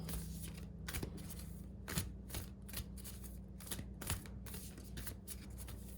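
Large tarot cards are shuffled slowly by hand, giving a close, soft series of irregular riffling and sliding rustles repeated over several seconds with no talking.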